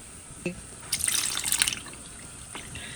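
Water is poured from a tap into an empty coconut milk can, giving a short splashy gush with a few drips before and after, close and moderately quiet.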